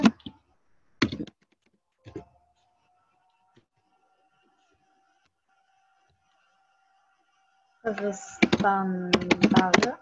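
Short bursts of keyboard clicks, typing on a computer keyboard in a quiet room, separated by long pauses and a faint steady hum, with a person speaking near the end.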